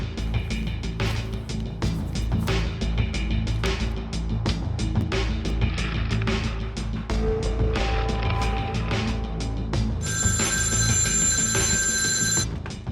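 A telephone rings with a bright, steady electronic tone near the end, over a dense bed of background noise and clatter.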